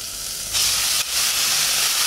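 Ground beef sizzling in a hot pan over browned sugar, a steady loud frying hiss that surges sharply twice as the meat hits and is stirred, with no talking.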